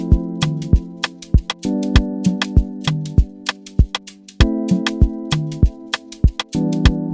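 Synth chords pitched an octave lower in FL Studio for an Afrobeat beat, repeated stabs with sharp percussive hits in a steady pattern, clear and alone without speech.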